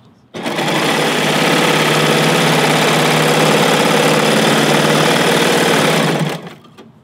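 A serger overlock machine stitches sheer scarf fabric in one loud, steady, close run of fast mechanical whirring and clatter lasting about six seconds, then stops abruptly.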